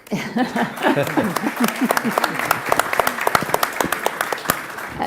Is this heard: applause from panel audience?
yes